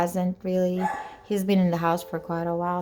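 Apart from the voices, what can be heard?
dog barking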